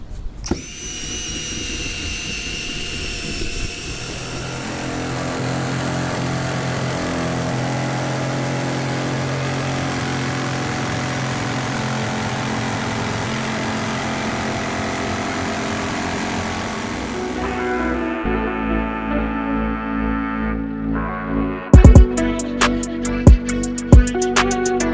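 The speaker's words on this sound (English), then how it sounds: "I'm gonna take my drill bit and make a few plunge holes so I can stick my jigsaw blade in, and I'll cut it out." A jigsaw saws through the sheet-metal roof of a Chevy Caprice LS Brougham to fit a G6 panoramic sunroof, a long steady buzzing cut that ends abruptly, followed by sharp metallic clanks and rattles.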